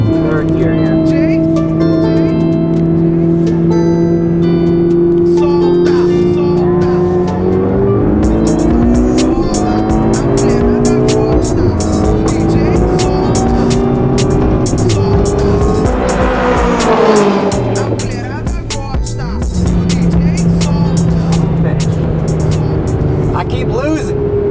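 A Ferrari 488 screams through gears while street racing, loud high-revving engine tones climbing and dropping with shifts, tire noise and another car passing, with a person talking over the roar.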